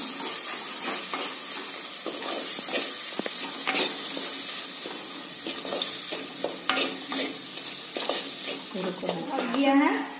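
Biryani masala with garam masala and salt frying and being stirred in a pot for street-style matka biryani, a steady sizzle with repeated scraping stir strokes throughout, close and fairly loud.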